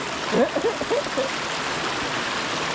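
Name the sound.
river water flowing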